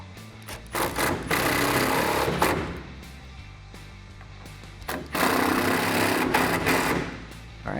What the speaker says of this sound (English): Grab your 8mm socket and tighten them down